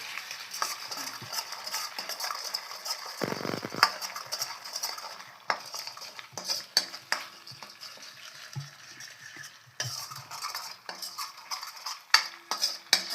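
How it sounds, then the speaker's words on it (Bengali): Egg mixture being stirred in a pan for a steamed egg dish, soft scraping and clinking of a utensil against the pan in irregular strokes over a faint sizzle, quiet and close, with no speech. "আমি হালকা একটুখানি নেড়ে নিচ্ছি"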